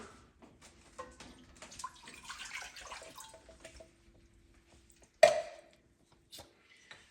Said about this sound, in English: I'm going to start by putting in our water.